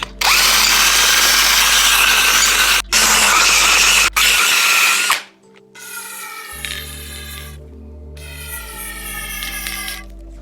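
Power drill spinning a hone inside an old suspension fork, a loud continuous whirring grind that stops briefly twice, then gives way to quieter ratcheting, clicking mechanical sounds.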